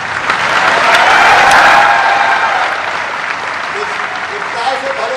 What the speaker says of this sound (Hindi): तालियों तो दमदार हो